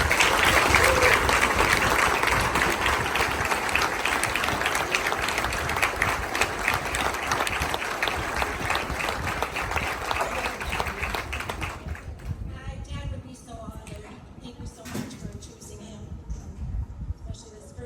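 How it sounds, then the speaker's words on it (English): Audience applause at a school athletics hall of fame ceremony: loud sustained clapping from a crowd fills the room, then fades out after about twelve seconds, leaving scattered claps and a few voices. "Please give them a round of applause."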